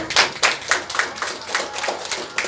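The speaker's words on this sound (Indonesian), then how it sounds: "Tepuk tangan." A classroom of students gives a short burst of uneven clapping for a group that has just finished presenting, with distinct individual claps rising and falling over a couple of seconds.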